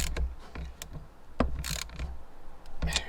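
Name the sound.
tightening a loose positive battery terminal on a VW T4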